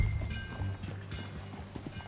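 Horse hooves in Red Dead Redemption 2 clip-clop at a brisk riding pace, close and fairly soft over a low game ambience.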